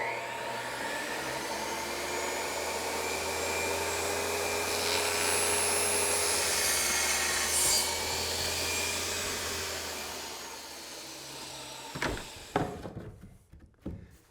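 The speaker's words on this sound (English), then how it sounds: "Now that is a very efficient cutting machine, that one right there." A power cutting machine saws wood during stair finishing, producing a sustained, fairly loud whine that swells in the middle and then stops. A few sharp knocks and clunks follow near the end.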